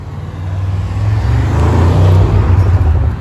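Audi RS6 at a car meet in Switzerland, its deep, heavy engine note revving and swelling as it passes close by, a loud low drone building over about three seconds.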